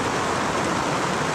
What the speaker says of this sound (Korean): 갑자기 또 비가 오네요